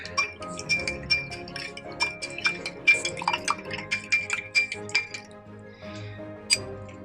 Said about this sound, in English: I'm going to add the white powder. I'm going to give a beautiful stir.